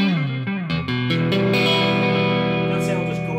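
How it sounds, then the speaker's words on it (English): An electric guitar through a Caline Ghost Rain reverb/delay pedal plays a few notes that ring out into a lush, washy reverb tail that lingers and swells. "That sounds as good as any high-end reverb pedal."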